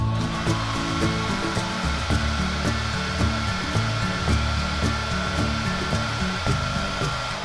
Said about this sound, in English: you're gonna need a hair dryer. So I turn mine on the highest setting and the hottest it will get.